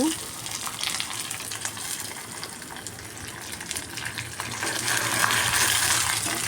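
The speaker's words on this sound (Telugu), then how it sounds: "సిమ్లోనే పెట్టి వేయించాలండి పోపు" Curry leaf tempering frying on low heat in a pot, a steady, fairly loud crackling sizzle that swells slightly toward the end, with no talk.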